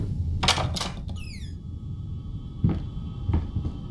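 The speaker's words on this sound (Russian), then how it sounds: "А вот эту ручку покрутить ли?" A handle turns in the horror game Layers of Fear, giving two sharp creaks followed by a descending metallic ratcheting squeal, then a few later clunks and knocks under a low ambient rumble.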